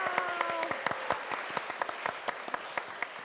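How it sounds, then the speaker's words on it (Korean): Dense, steady applause from an audience at a Christian talk show taped live on a school campus, many hands clapping close together and fairly loud for the whole stretch, with crisp individual claps standing out. "자, 우리 하나님께 영광의 박수 한번 올릴까요?"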